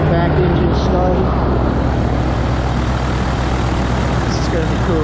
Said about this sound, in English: Got the back engine started.